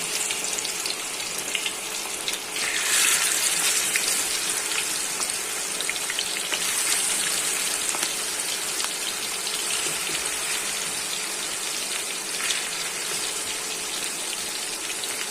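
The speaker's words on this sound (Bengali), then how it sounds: "এখন গরম তেলে মুরগি দিয়ে ছেড়ে দিচ্ছি" Broiler chicken pieces fry in hot oil, a steady crackling sizzle with a watery, bubbling hiss that swells briefly now and then, heard close up without any talking.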